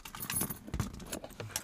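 Keys jangle in a series of short metallic rattles at close range, with no talk over them.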